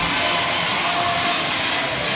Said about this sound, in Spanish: Aí está recibindo aplauso da súa afección